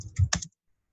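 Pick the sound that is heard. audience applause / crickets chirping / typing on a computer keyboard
typing on a computer keyboard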